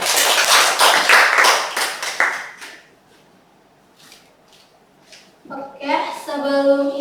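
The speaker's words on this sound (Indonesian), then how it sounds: "Tepuk tangan dulu untuk saya." A class claps hands together in a classroom during a microteaching lesson on the Krebs cycle, a loud dense burst of clapping lasting a couple of seconds, then quiet, before a voice speaks.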